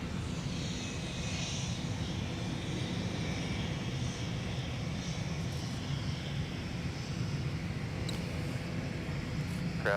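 A Delta 717 airliner at MSP airport, headed to runway 17, produces a loud, steady jet engine roar that holds unbroken throughout.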